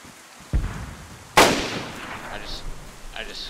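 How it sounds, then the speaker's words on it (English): A grenade explodes in the DayZ video game with a sharp, loud blast and a rumbling tail, preceded by a softer thump, while players talk faintly over voice chat. "I'll toss a nade in there, okay?"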